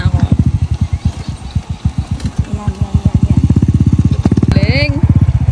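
A motorcycle engine runs close by with a steady, rapid thumping pulse that quickens slightly toward the end, and a brief voice rises over it near the finish.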